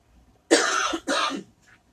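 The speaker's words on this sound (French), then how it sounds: "Ça me fait tousser même." A person coughs twice in quick succession, close and fairly loud, each cough a short harsh burst followed by a brief faint breath.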